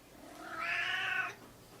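A cat lets out a single drawn-out meow of about a second, fairly close and clear, with quiet room noise before and after and no talking.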